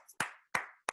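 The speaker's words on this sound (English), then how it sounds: "Let's give her a round of applause, ladies and gentlemen" Three sharp, separate hand claps, each with a short ringing tail, evenly spaced within about a second at a postgame gathering after a South Carolina versus UConn basketball game.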